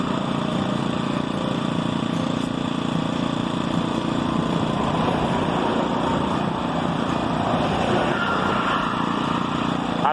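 A small motorized bicycle engine drones continuously while touring California, a loud, steady buzzing putter with road and wind noise throughout, close and unbroken, with no speech.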